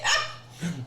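A voice imitates a dog, giving two short bark-like yelps with a brief gap between them, close and fairly loud with no other talk around them.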